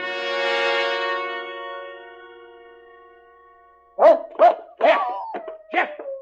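Dog barks in an old-time radio suspense drama: a sustained, organ-like tone fades out first, then four or five sharp, close barks come in quick succession.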